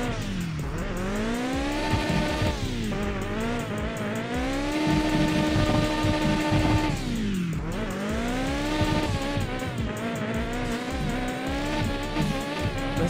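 Virtual car in the Mon Bazou driving game sliding through a handbrake drift, with a loud continuous engine whine that rises and falls with revs, overlaid by harsh tire skid and squeal.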